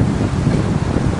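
Strong wind buffeting the microphone outdoors among palms, a loud, steady low roar with rumbling gusts and no talk.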